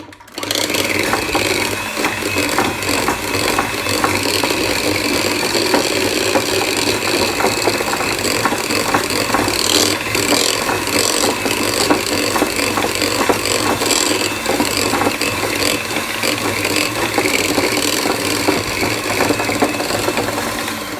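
An electric mixer churns supermarket cream as it turns to butter and buttermilk, a steady, close mechanical whir with constant rattling and sloshing that runs unbroken for the whole stretch.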